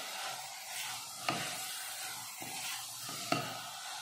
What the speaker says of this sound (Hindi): मसाले भूनने के बाद डालेंगे लौकी, डाल देंगे दाल। सबको अच्छे से मिलाएंगे,